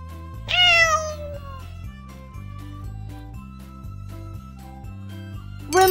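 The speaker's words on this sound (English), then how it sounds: "Cat." A recorded cat meows loudly once in a toy alphabet learning game, over a looping electronic tune with steady chiming notes. A second meow starts right at the end.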